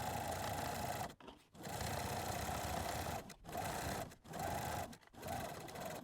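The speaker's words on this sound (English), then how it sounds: "we're going back to the sewing machine and top stitch that all the way through" A sewing machine runs fast, top stitching through a fabric face mask in loud close bursts of rapid mechanical whirring. Several short pauses break up the stitching runs, and no one speaks.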